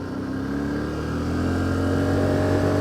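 A Can-Am quad bike engine running in two-wheel drive on the road, a loud, steady mid-pitched drone that rises gradually in pitch as the rider accelerates.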